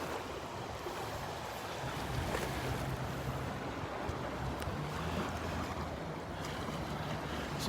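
A fishermen's boat heads out on the ocean off a beach, its motor a low steady drone that is partly buried under continuous surf wash and wind buffeting on the microphone, with no talk.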